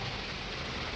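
Steady rain falling outside rooms at a stay in Wayanad, a soft, even hiss of drops with no pauses, moderately faint and continuous throughout, with no talking.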